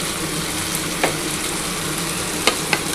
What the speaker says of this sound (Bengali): কিন্তু পেঁয়াজটা দিয়ে দিচ্ছি।